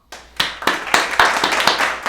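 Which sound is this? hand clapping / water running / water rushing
hand clapping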